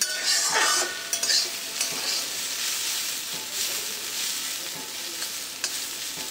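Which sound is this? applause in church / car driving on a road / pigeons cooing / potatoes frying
potatoes frying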